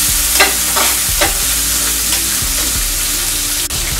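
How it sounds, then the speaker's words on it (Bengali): Prawns with chopped onion and garlic frying in hot oil, a steady close sizzle broken by a few scrapes and stirs of a utensil in the pan, with no voices. "এরপর এটাকে আমি 2 মিনিটের মতো ভেজে নিচ্ছি।"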